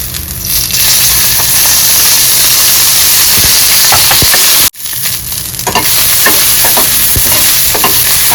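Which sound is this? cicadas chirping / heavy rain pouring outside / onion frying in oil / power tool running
onion frying in oil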